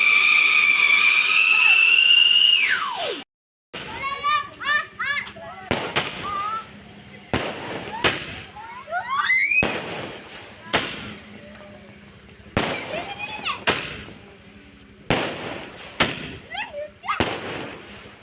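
At a Diwali Lakshmi Puja, a long rising firecracker whistle ends abruptly, followed by a rapid series of sharp firecracker bangs and crackles, some with short whistling squeals, nearby and loud.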